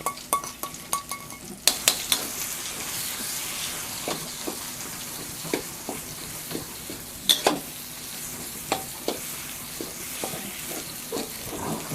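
Nam ngiao curry paste stir-fried together with fermented soybean in a pan for northern Thai khanom jeen nam ngiao, giving a steady low sizzle broken by repeated sharp scrapes and clinks of a utensil against the pan, close and moderately loud with no talking.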